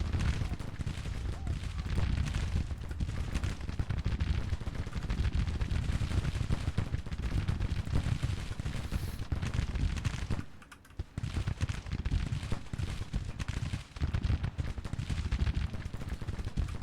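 Sustained crackle of massed musketry and cannon fire in a Civil War battle from the strategy game Grand Tactician, dense and continuous throughout with only a brief lull, a voice talking over it.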